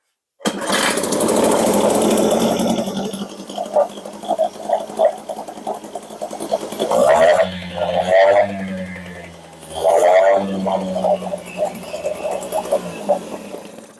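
A small two-stroke Mercury 3.3 outboard motor is pull-cord started and sputters to life, then runs with loud, uneven revving bursts close by.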